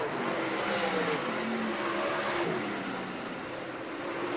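Sprint cars and late model race cars roar around Utica Rome Speedway running four wide, a continuous dense engine drone at steady loudness that swells slightly as the pack passes, with no talking over it.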